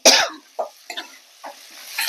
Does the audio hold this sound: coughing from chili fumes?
yes